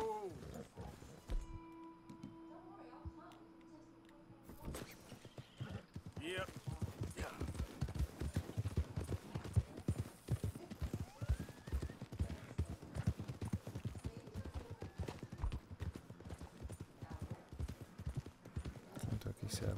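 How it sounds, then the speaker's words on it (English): Horse hooves clip-clop steadily in Red Dead Redemption 2, a rapid, continuous rhythm of close, moderately loud footfalls over outdoor game ambience, with someone talking at times. "There's a horse over there."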